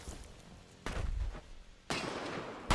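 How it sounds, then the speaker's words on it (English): Explosions from a grenade in a war video game, with three muffled, booming blasts at irregular intervals over a low rumbling battlefield background. "there's an enemy in there, so we'll cook the grenade, off it goes"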